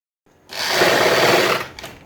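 Sewing machine stitching fabric for a gharara garment, a close, loud buzzing whir starting abruptly and running steadily for about a second before trailing off, no speech.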